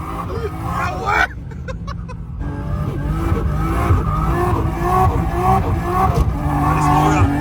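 A Nissan Skyline GT-R roars on wintry Finnish streets, its engine revving hard and tires squealing in loud, sustained bursts, while excited people shout and talk over the noise.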